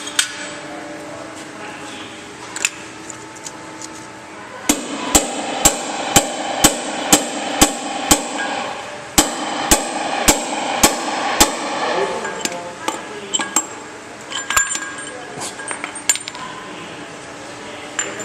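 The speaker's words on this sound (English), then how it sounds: "it's time to put the seal back in with the seal driver" Seal driver tapped with a hammer to seat a bearing seal into a trailer hub, giving a series of sharp metallic strikes in a steady rhythm, close and loud, then a few scattered lighter taps.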